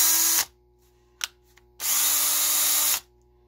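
A worn DeWalt reciprocating saw with a failing motor runs in two loud bursts, a short whirring run, a pause with a faint click, then a longer steady high-pitched buzz before stopping.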